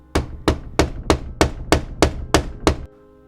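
Nine heavy, forceful knocks pound on an apartment door in a steady, insistent rhythm, close and unaccompanied.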